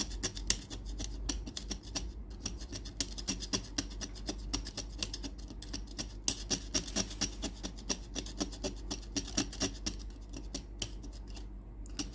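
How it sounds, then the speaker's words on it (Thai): Burnt solder pads on the circuit board of a Philips PSG8040 steam iron are being scraped clean, making rapid, repeated close scratching and rasping strokes that continue steadily without any voices. "ส่วนตัวปิ้นนี่ก็ ขูดทำความสะอาดหน่อยนะครับตรงที่ไหม้"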